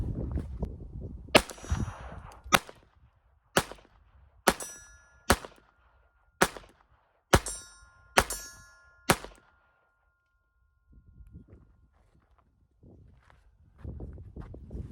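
A Browning Baby 1911 .22 Long Rifle pistol fires Winchester Super X 40-grain hollow point rounds outdoors: about nine sharp, ringing shots at a steady pace, each with a short metallic tail, then quiet handling noise.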